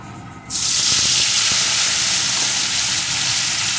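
Shrimp coated in salt and turmeric hit hot mustard oil with a sudden loud burst of sizzling that starts half a second in and holds as a steady, close, bright hiss throughout.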